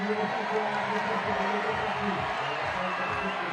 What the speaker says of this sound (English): The crowd is going crazy already.